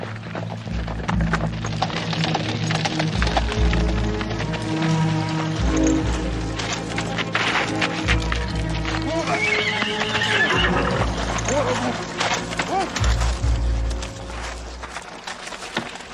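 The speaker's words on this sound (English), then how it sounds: "Stop that horse." Hooves pound rapidly in a steady gallop while a horse whinnies loudly, with a continuous rumble of movement and clatter throughout.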